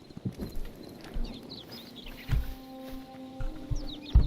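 Horse in the video game Hytale, with irregular hoof clops and soft snorts amid outdoor birdsong, fairly close and moderately quiet.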